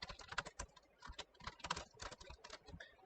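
Typing on a computer keyboard while writing website code: a quick, irregular run of close key clicks and taps, some louder than others, continuing throughout with no talking.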